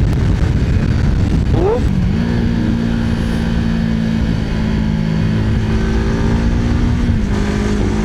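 Honda CBR150R motorcycle cruising on a highway, a steady engine drone with a quick rising rev early on, then a sustained note under wind noise.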